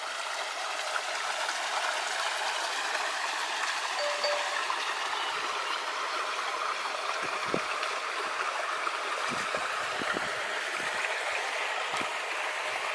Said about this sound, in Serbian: Ova voda sad ide ovamo u ribnjak.